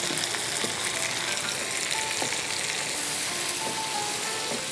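Mustard paste and chilli sizzle steadily in a frying pan while being stirred, a continuous dense crackle with faint scrapes, close and fairly quiet, no voices.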